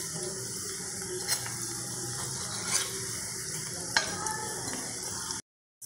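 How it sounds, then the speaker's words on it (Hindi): Balls fry in hot oil in a pan, giving a steady, dense sizzle with a few clinks and stirring knocks as they are turned, close by and without talk, ending abruptly in silence. "एक बार इन सभी बॉल्स को हम और पलट देते हैं और दूसरे साइड से भी इसको अच्छे से फ्राई होने देंगे।"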